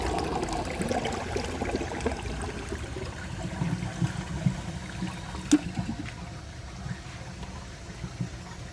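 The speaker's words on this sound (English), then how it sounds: "I'm going to empty the rest of the water from the tank" Water empties from the tank of a 1999 Universal-Rundle Atlas comfort-height toilet, a quiet, steady trickle and gurgle close by that continues for several seconds with small splashes and one sharp click midway.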